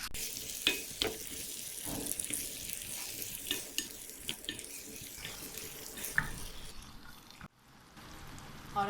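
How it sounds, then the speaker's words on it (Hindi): Tomatoes frying in a pan for a tomato chutney, with a steady hiss broken by irregular scraping stirs, and a brief splash of tap water near the end, close and moderately loud with no talk. "अब हम इसमें डाल देंगे टमाटर और इसको अच्छी तरह भून लेंगे"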